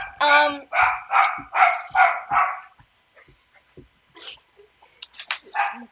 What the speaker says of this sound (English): The dogs are loud.